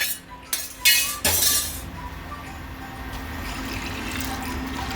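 Water is poured into a pot of soaked rice for boiling, with a few clinks of metal and glass at the start before a soft steady trickle of liquid runs on.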